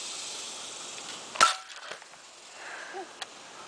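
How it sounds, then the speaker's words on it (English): A single sharp crack from a Pumpmaster 760 air rifle fired into a soda can outdoors, followed by faint scattered clicks and rustles against a quiet background hiss. "Me shooting my Pondmaster 760 into a soda can"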